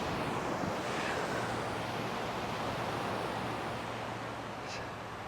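Ocean surf along a Montecito beachfront near Santa Barbara, a steady broad wash of breaking waves with some wind rumble, distant and continuous.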